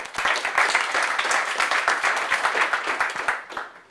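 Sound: audience applause for conference speakers

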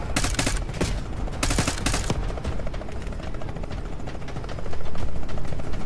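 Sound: gunfire in a video game

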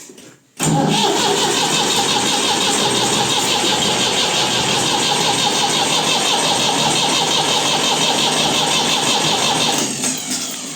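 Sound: tractor diesel engine being started with starter

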